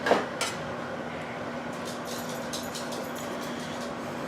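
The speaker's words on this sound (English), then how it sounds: "I'm going to cut into the steak to see if it's good." Steak being cut on a plate: a couple of sharp clinks of knife and fork against the dish near the start, then faint scraping over a low steady room hum.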